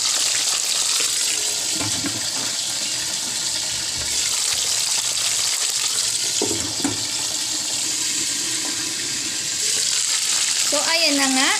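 Boneless milkfish (bangus) frying in a pan, a steady loud sizzle and crackle running throughout, with a few brief clatters near the end.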